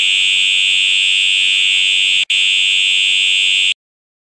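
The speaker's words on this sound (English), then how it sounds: "Yes, I just pulled the fire alarm," A Roblox fire alarm blares as a loud, continuous high-pitched electronic tone, broken by one brief dropout, before it cuts off abruptly near the end.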